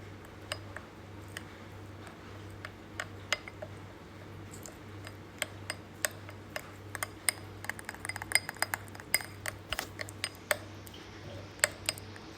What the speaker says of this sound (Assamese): এনেকৈ এতিয়া গোটেইকেইটা ইনগ্ৰিডিয়েণ্টছ মিলাই ল'ব